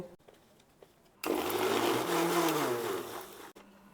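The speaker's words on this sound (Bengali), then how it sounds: "এবার এগুলোকে আমি একটা মিক্সির জারিতে দিয়ে এর রসটা বার করে নেব" A mixer grinder blends chunks of cut watermelon into juice, its motor jumping in abruptly to a loud, steady whirring churn that runs for about two seconds before cutting off; no talk.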